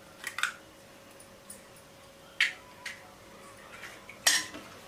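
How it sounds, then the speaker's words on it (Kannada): Chicken kabab marinade with egg and kabab powder being mixed in a bowl, giving a few sparse, close clinks of a utensil against the dish amid quiet, with no talking. "ಮತ್ತೆ ಎಲ್ಲನೂ ಈಗ ಮಿಕ್ಸ್ ಮಾಡ್ಕೋತಾನೆ"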